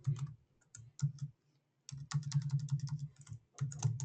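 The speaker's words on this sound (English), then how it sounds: "My typing skills are off a little today." Rapid typing on a computer keyboard close up, quick clusters of key clicks broken by short pauses.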